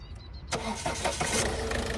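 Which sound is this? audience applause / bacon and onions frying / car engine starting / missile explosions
car engine starting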